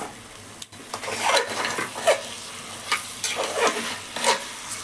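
A spoon stirs chicken biryani masala in a pot, scraping and clattering in several irregular strokes over a soft sizzling background, close and moderately loud, with no talking.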